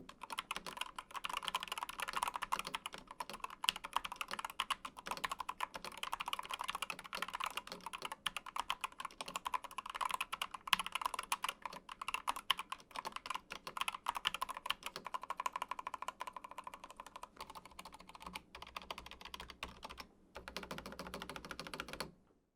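Rapid, continuous typing on a Corsair K100 RGB gaming keyboard with OPX optical switches gives close, crisp keystroke clatter that carries on steadily on its own.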